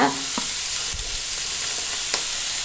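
Mashed potato being stirred into a seasoned fish and pepper mixture for fish balls, a steady soft scraping and mixing with a few sharper spoon knocks against the bowl and a constant high background hiss.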